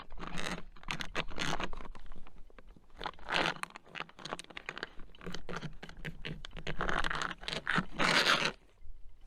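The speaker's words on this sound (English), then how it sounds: "Zip it up." A food pouch being zipped shut at a campsite, a close run of rapid scraping, zipper-like rasps in repeated bursts over several seconds.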